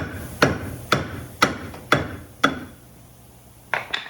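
A hammer strikes a metal wheel hub on a Ford Aspire during wheel bearing replacement five times at a steady, even pace, ringing a little after each blow, then two more quick hits after a short pause.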